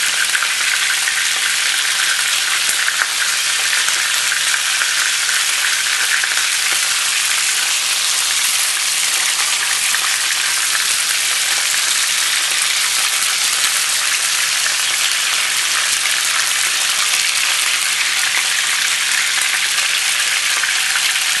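Ingredients sear in a pan until they brown, the first step of a curry soup, giving a loud, unbroken hissing sizzle, dense like heavy rain, that continues steadily for the whole stretch.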